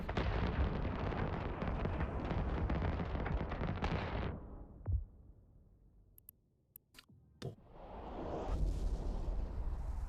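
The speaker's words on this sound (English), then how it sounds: "Oh, somebody's firing fireworks." Fireworks going off in the space game EVE Online: a dense, loud rumbling roar that stops abruptly, then a few sharp separate pops and bursts before a swelling rushing noise returns.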